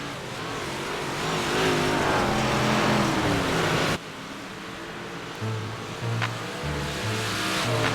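358 sprint cars race around the dirt oval at USA Speedway, engines roaring loudly in a sustained, rising drone. The noise drops abruptly midway to a lower, more distant rumble as cars pass.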